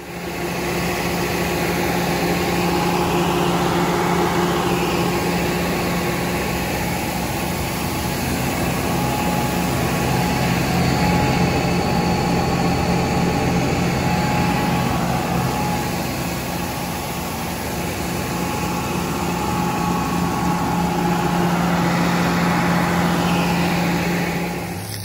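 A tractor engine idles steadily and continuously nearby, a constant low rumble with a faint whirring hum and no talk over it.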